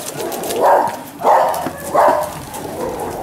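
Dogs bark in three loud, evenly spaced bursts over a noisy outdoor background in Lijiang, China.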